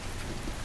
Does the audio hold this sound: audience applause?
no